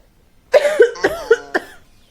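A person coughs four or five times in a quick, harsh series, close and loud, then falls quiet.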